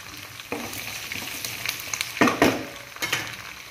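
Curry leaves and garlic fry in a pan for vatha kuzhambu, a close, continuous sizzle with occasional louder crackling bursts as the mixture is stirred.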